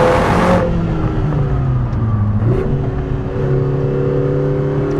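Lotus Emira sports car driving on open roads, engine note rising and falling as it rolls through the gears, with a brief lift near the start and steady pulls after, heard from close by.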